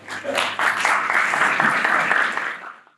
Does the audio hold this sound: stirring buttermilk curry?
no